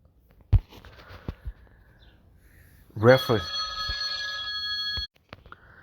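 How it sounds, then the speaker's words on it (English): A telephone rings with a sustained electronic ringtone of about two seconds, near and fairly loud, after a few scattered knocks and a short voice. "Sorry, I had a phone call."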